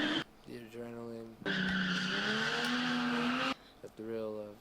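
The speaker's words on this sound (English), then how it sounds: "The thrill of taking your car that somebody drives every day and sliding it sideways." An everyday street car slides sideways while drifting, its tires squealing loudly in long sustained skids broken by short gaps, with engine noise between the slides.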